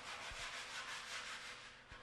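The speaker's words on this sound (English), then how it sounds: "Sand down with a coarse-grained glass paper." Steady, rhythmic scratchy rasp of coarse sandpaper rubbed back and forth over wood, close and continuous with a few soft knocks.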